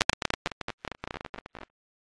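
Static noise from the noise generator of the Thor synthesizer in Reason: a rapid, irregular stream of short crackling bursts and pops with gaps between them, lasting about a second and a half before falling silent.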